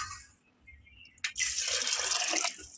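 Water is poured into a pot of chicken haleem, starting with a brief splash and then settling into a steady, close pouring rush that continues to the end.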